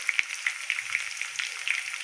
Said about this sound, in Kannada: ಆವಾಗ ನಾವು ಕಟ್ ಮಾಡಿ ಇಟ್ಕೊಂಡಿರ್ತಕ್ಕಂಥ ಹಸಿ ಮೆಣಸಿನ್ಕಾಯಿ ಹಾಕ್ತಾಯಿದ್ದೀನಿ. ಅದು ಸ್ವಲ್ಪ ಫ್ರೈ ಆಗಲಿ ಹಸಿ ಮೆಣಸಿನ್ಕಾಯಿ.